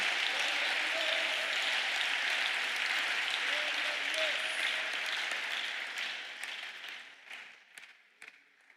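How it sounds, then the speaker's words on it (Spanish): A church congregation applauds for the Lord during a sermon, a sustained wash of clapping that holds steady and then thins out over the last few seconds into a few scattered claps. "Dele un aplauso al Señor en esta hora."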